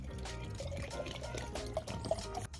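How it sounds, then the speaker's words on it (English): Water pours into a jar of soil for a soil test, a continuous liquid fill with faint gurgles and trickles at moderate level, heard without speech. "We're gonna fill this one up with the no soap."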